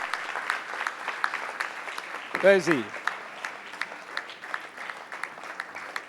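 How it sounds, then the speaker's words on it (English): Audience applause at a speech event, steady clapping from a crowd throughout, with someone speaking briefly over it partway through. "Another round of applause, please, for him."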